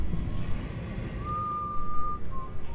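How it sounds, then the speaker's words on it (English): Someone whistles a few sustained tones in a stealth scene of the video game Dishonored 2, faint and somewhat distant over low ambient rumble and background game noise. "Who's whistling?"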